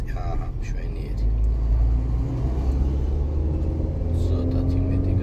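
A car engine rumbles steadily and builds gently under throttle during a city driving lesson, heard from inside the cabin, low and continuous, while an instructor talks over it.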